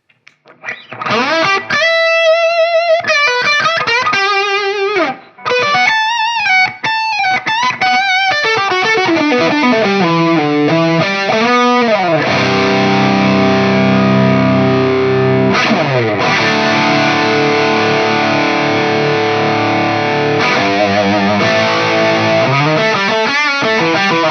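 Heavily overdriven Gibson Les Paul 60th Anniversary electric guitar through two stacked overdrive pedals, playing riffs and sustained chords, loud and distorted, with no voices.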